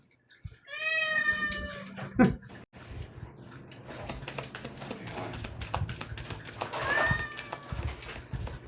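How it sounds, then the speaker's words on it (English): A house cat meows loudly and insistently indoors, with a long drawn-out meow near the start and another shorter one later, amid background rustling and some quiet talk. "Sorry if you don't like cats."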